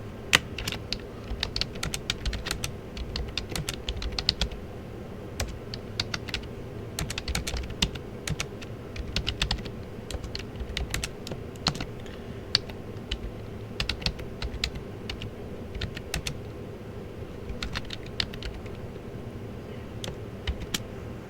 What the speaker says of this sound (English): I'm gonna hit text. And we're gonna type